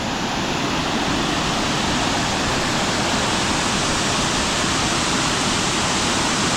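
A powerful waterfall in Bali roars in a dense, unbroken rush of white noise, loud and close, with no let-up and no voices over it.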